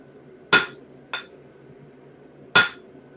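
A steel hammer strikes a dagger forged from a railroad spike three times, giving sharp metallic clinks with a short ring, unevenly spaced and close up.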